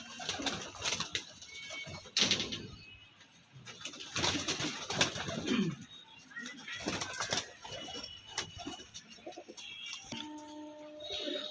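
Pigeons of a Bengali racing line coo and rustle near the loft, soft repeated calls and wing flaps at close range, with voices talking faintly at times and a brief tonal sound near the end.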